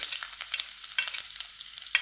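Ginger, green chilli and garlic fry in hot oil with mustard seeds and cumin, stirred in a pan; a quiet, crackly sizzle runs throughout, broken by a few sharp spatula scrapes and taps, with no talking.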